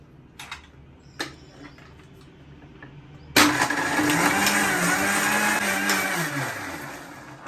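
A mixer grinder jar whirls into a loud, steady roar as it crushes ice for aam panna, a raw mango drink, after a few scattered clicks and knocks while the lid is set.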